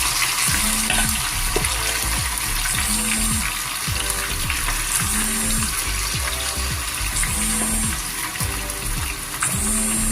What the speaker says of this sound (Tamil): நான் இப்போ எடுத்து இப்போ இந்த இறாலை எண்ணெயில் போட்டு பொரிச்செடுக்க போகிறேன்.